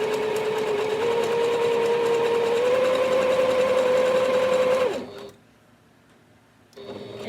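A Singer Heritage sewing machine runs a zig zag stitch with a steady mechanical whir and hum for about five seconds, stops, then restarts briefly after a quiet pause.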